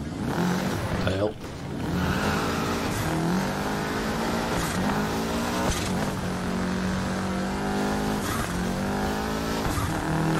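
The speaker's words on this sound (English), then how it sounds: "really getting my drift on. Try to get my handbrake turns a bit better" A rally car drifting through handbrake turns in Dirt Rally 2.0, its engine revving and rising in pitch with a steady loud drone, tire noise underneath throughout.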